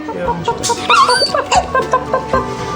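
A puppy at a veterinary hospital whimpers and yips in short, high, wavering cries, close and fairly loud, with a few quiet bits of talk underneath.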